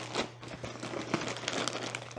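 Thin plastic bags crinkle and rustle close by as clothes are rolled and packed into them, a steady run of soft crackles under a faint low hum.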